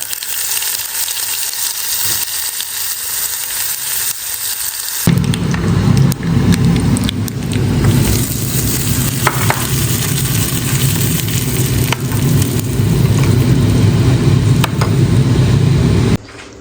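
Curry leaves, asafoetida, mustard seeds, cumin and onion sizzle loudly in hot oil, a dense continuous frying hiss that swells and thickens about five seconds in when more goes into the pan, with faint stirring scrapes.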